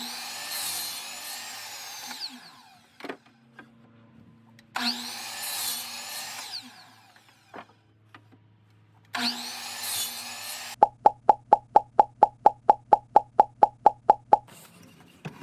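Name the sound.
miter saw cutting wood at an angle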